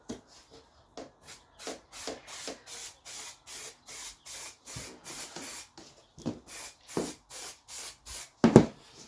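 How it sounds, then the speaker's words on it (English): Spray adhesive applied in a long run of short, regular hissing bursts along the edge of a van panel during a van build, each spurt close and fairly loud with brief gaps between, ending with a sharper clunk. "Use the adhesive to get on the edge."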